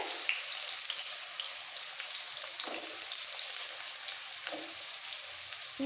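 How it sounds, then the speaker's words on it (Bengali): Potatoes, carrots and cauliflower frying in oil in a pan, a steady loud sizzle running throughout, with a few faint scrapes of stirring underneath. "ফুলকপি দিয়ে দিচ্ছি তেলের মধ্যে একটু নাড়াচাড়া করে দিয়ে দেবো"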